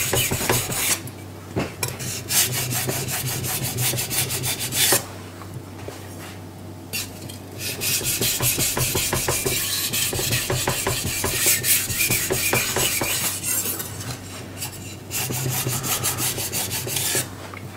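A carbon steel knife blade is drawn across a King whetstone in repeated rasping strokes, alternating passes broken by short pauses, close and clear with no talk.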